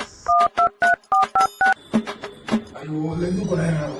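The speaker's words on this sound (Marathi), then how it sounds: "फोन करतो मी, थांब बरं" Telephone keypad tones are dialed in a quick run of about eight evenly spaced beeps, loud and close, followed by a ringback tone as a voice begins speaking over it.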